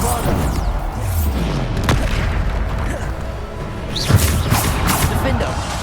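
Bombarda blasting spell in Hogwarts Legacy, heavy booming magical explosions going off repeatedly amid a busy swirl of combat effects, with a voice speaking over the fight.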